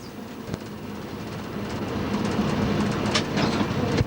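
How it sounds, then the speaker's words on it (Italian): Gailtal railway train in cab view slowing as it enters a turnout, with a steady rolling rumble and scattered wheel clicks and squeaks over the points, growing slightly louder toward the end. "Il treno ora riduce la velocità per l'entrata in deviazione."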